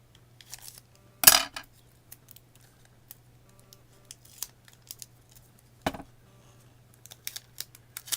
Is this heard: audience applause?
no